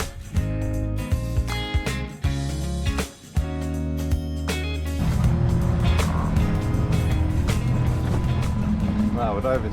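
A MacGregor 26 sailboat motors under engine power, a steady low drone running throughout, with a couple of loud thumps and brief dropouts early on. People talk over the engine.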